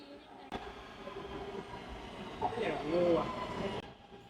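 Faint rumble and hum of a Taipei Metro Blue Line underground train in motion, with brief squealing tones from the wheels and some murmured talk nearby.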